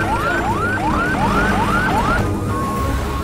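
An ambulance siren in a Hindi-dubbed thriller film wails in rapid rising sweeps, loud and close, then settles into a steady tone near the end.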